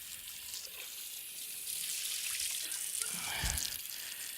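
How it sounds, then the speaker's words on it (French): A cooking pot is rinsed with a short splash of running water, a soft hiss with a brief louder gush near the end, faint and close in a kitchen. "je donne un petit coup d'eau qui va le rincer."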